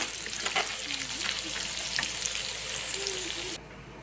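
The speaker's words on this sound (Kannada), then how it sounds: "ಈ ಅರಿಶಿನ ಕೊಂಬು ಜಜ್ಜಿ ಇಟ್ಕೊಂಡಿದ್ದೀವಲ್ಲ ರೀ, ಇದನ್ನು ಹಾಕ್ತೀನಿ. ಈಗ ಇದು ಸ್ವಲ್ಪ ಕೆಂಪಗಾಗುವಂಗೆ ಫ್ರೈ ಮಾಡಿಬಿಟ್ರಿ." Crushed turmeric root fries in hot oil, a steady close sizzle with small stirring scrapes, dropping away abruptly near the end.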